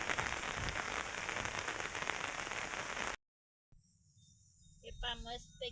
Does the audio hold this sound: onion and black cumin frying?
no